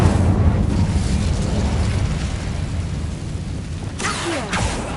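Incendio fire spell cast in Hogwarts Legacy on PS5, a steady roaring, rumbling burst of flame that holds loud throughout, with a brighter crackling flare near the end.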